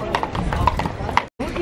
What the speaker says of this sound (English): more horses! Look at the horses!